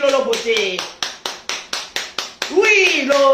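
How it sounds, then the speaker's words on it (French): An audience claps in quick, evenly spaced bursts for Lolo Beauté, eight or nine crisp rhythmic claps up close, with voices talking and calling out before and after. "on applaudit Lolo Beauté"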